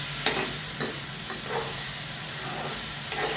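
Close, loud sizzling in a pan while ingredients for a potato and tomato curry fry, with a steady hiss and several spatula strokes scraping through at irregular intervals, no voices.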